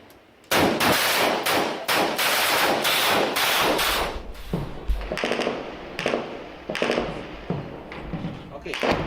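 Sniper gunfire during the battle of Marawi: a rapid run of sharp, loud cracks, then sparser, fainter shots spaced irregularly, with a faint murmur of voices between them.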